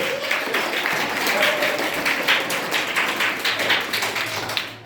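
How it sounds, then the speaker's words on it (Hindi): A school audience at a Hindi Diwas event claps for the poet Bihari Lal, a loud, sustained burst of many hands with faint voices mixed in, fading at the very end. "तो हम बिहारी लाल के लिए ताली बजाएंगे"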